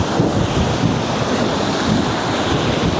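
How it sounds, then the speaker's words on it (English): Whitewater churns through a rapid on the Middle Ocoee River, a loud, continuous roaring wash of turbulent water filling the whole stretch with steady surging rush and no talk. "You want to hit that white water for the biggest impact of the rapid."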